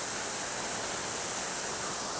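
A winter waterfall with icicles beside it gives off a steady, even rush of falling water, a soft hiss with no breaks.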